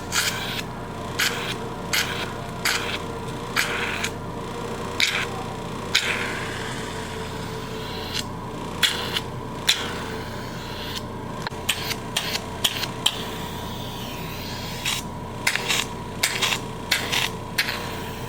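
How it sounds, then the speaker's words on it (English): A hydrafacial device scrapes dead skin off a face with a continuous raspy hiss, broken by repeated short scraping strokes and clicks, close and steady throughout. "So the first step was basically scraping off the dead skin."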